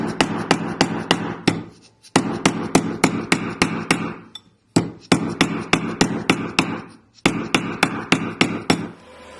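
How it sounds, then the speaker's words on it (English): A plastic mallet strikes a metal love-knot ring on a steel triblet. It hammers in rapid, even runs of sharp, loud, ringing blows at close range, broken by short pauses between bursts. "take your tribulette, your plastic mallet and go to town"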